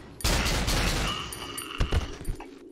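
Rapid burst of gunfire in the horror video game Cry of Fear, a dense volley of close, loud shots followed by a few scattered single reports as it tapers off.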